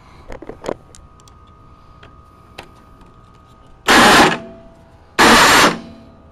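An electric starter motor on a snowblower spins up in two loud bursts of about a second each, separated by a short pause and preceded by faint handling clicks.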